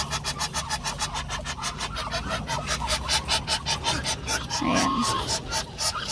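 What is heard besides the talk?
Indonesian muscovy duck calling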